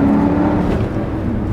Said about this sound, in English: launch, and the turbo spool on.